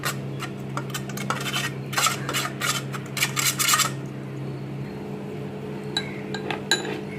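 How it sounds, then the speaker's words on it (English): A cake pan is greased with butter, with soft rubbing and scraping broken by quick, light metallic clinks from the pan and utensil, close up and moderately quiet. "Now take a cake pan, grease it with butter"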